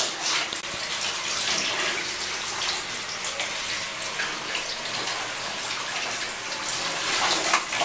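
Tap water gushes steadily into a baby's bathtub, a continuous close splashing stream that runs the whole time without pause or talk.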